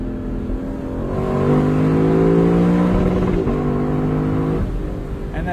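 A car engine revs hard and climbs steadily up to its rev limiter, holding a loud, bouncing buzz at the top before easing off, close and alone with no talking.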